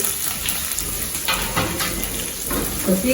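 Small onions, curry leaves and garlic sauté in a pan for seeraga samba lemon rice, giving a soft, continuous sizzle broken by a few clinks and stirring scrapes, close and fairly quiet.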